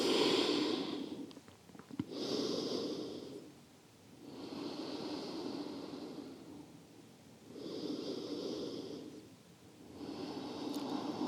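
Slow, deep breaths during a yoga cool-down after a run: four or five long, airy inhale and exhale cycles, each a few seconds long, close and steady, with no talking.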